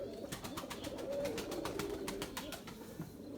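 Turkish tumbler play pigeons coo in low, steady rolling calls, with sharp clicking claps punctuating the flock sound close by and no talking.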